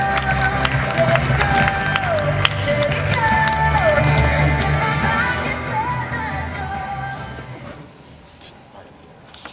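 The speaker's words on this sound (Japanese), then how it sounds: "今一度盛大な拍手よろしくお願いいたします" Crowd applause and cheering at a campaign rally for Katsuyuki Kawai in Akitakata, a sustained, fairly loud mass of clapping under tonal music and voices that fades toward the end.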